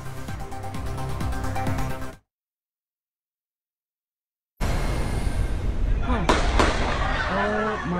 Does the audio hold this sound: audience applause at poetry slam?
no